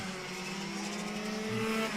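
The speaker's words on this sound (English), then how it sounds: "gearbox mated to a ROTAX Max Evo, 125cc single cylinder engine. There's that mistakable Hornet's Nest style" A racing kart with a ROTAX Max Evo 125cc single-cylinder engine and 2-speed gearbox, racing in a Latvian karting championship: a loud, sustained, buzzing engine drone that holds steady with a slight rise in pitch.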